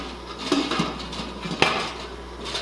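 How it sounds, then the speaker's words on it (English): A metal lid clanks and rattles onto a pot of boiling water holding canning jars, a few close kitchen knocks with a sharp clink near the end. "We're going to put on the lid."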